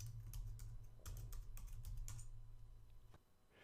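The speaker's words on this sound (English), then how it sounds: "Typing SSH keygen" Rapid keystrokes on a computer keyboard, typed in quick uneven bursts, close and clear, as a Linux terminal command is entered, then fading to a few scattered taps near the end.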